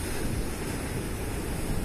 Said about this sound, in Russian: А волны вот такие вот.